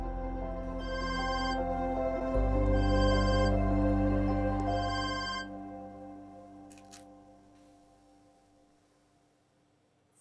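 A telephone rings in repeated electronic bursts over a steady low hum, then fades out, leaving near silence.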